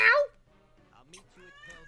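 A cat gives one short, loud meow right at the start, then a person talks quietly for the rest.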